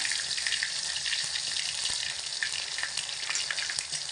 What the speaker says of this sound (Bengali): গরম তেলের মধ্যে দিয়ে দেব অল্প একটু কালো জিরে, একটা ছোট টমেটো কুচি কুচি করে কেটে নিয়েছি দিয়ে দিলাম, দুটো কাঁচা লঙ্কা